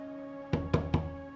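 Three sharp knocks on a door in a Bollywood film scene, evenly spaced and fairly close, sounding over a steady, quiet music bed with no talking.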